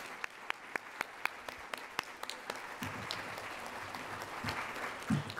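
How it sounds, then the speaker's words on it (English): Audience applause for a panel of speakers at a Columbus Metropolitan Club forum on healthcare access begins as a few sharp, scattered claps, then thickens into softer, fuller clapping while a voice briefly speaks over it near the end. "Let's give them all a round of applause."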